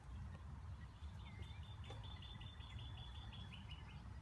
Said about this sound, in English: There goes a bird.